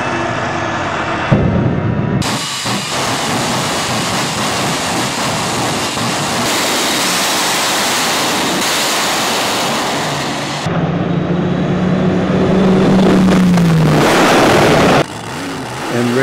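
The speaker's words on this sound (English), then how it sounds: "The kids' favorite, Towmator, jet tow truck" A jet-powered tow truck at a drag raceway in Alaska, a loud, continuous roaring rush of broadband jet noise that shifts in intensity over several seconds.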